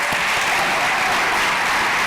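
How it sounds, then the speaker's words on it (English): Audience clapping for teachers at a national science and technology exhibition, a dense, continuous wash of applause heard steadily throughout. "Can we also clap for our teachers, please?"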